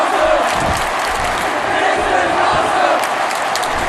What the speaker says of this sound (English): Near this crowd, they are showing their appreciation for this match.